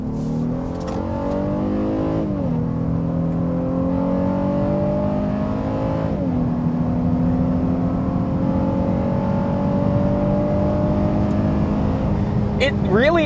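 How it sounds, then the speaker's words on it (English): A second-generation Honda Ridgeline pickup truck's engine revs hard in sport mode under acceleration, its pitch climbing steadily and dropping briefly at two gear shifts before pulling up again. Close, loud and continuous. "And the engine sounds great, especially when you get into VTEC."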